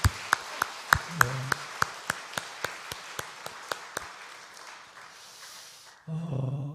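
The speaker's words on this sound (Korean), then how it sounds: "우리 선생님들 위해서 큰 박수 한번 하도록 합시다." A church congregation at an early-morning prayer service claps for its teachers, with about fifteen sharp, evenly spaced claps in a steady rhythm that gradually soften, followed by a louder rustling noise at the end.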